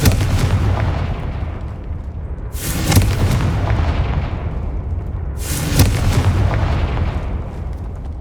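Two heavy explosive blasts from the Confringo fire spell in the Hogwarts Legacy video game, spaced about three seconds apart, each a sharp booming burst over a continuous low rumbling game background.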